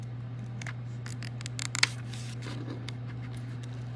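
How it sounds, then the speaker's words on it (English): Scissors snip through cut vinyl for a craft design in a few quick, faint clicks near the middle, over a steady low electrical hum. "I'm going to take the scissors and I'm going to cut this out"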